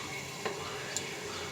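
Vegetables cooking in a covered pan give a soft, steady sizzle and bubbling hiss, with two faint clicks partway through and no talk over it.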